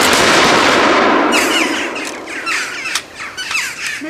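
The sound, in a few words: gunfire volley after the command to fire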